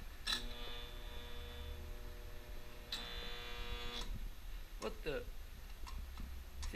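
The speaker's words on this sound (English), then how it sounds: "That's the sound that air conditioner makes." An air conditioner hums steadily after being plugged in, a continuous electrical drone with a few faint clicks and ticks over the run.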